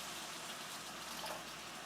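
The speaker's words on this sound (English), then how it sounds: "We're going to add in our water." Water poured into a cooking pan of caramelized mushrooms for vegan mushroom ramen, a steady close gushing and splashing that runs evenly for about two seconds with no talking.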